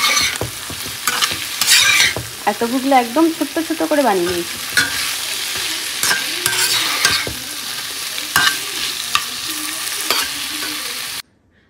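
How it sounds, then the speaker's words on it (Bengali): Tofu, potato and carrot frying in a pan as the cook stirs them: a steady close sizzle broken by repeated scrapes and knocks of the spatula. Someone speaks briefly over it near the start, and everything cuts off at the end. "এখানে আছে টফু দিয়ে, আলু দিয়ে, গাজর ভাজা। তো এটা এক্ষুনি দিলাম, এটা এখনো ভাজা হবে"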